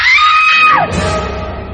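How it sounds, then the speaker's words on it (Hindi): A scream sound effect in a Hindi horror story: a loud, sustained high-pitched shriek that slides downward and trails into a lower reverberant wail, heard alone. "कमरे से चीखने की एक आवाज आई"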